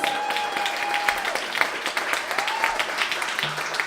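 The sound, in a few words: audience applause for the performers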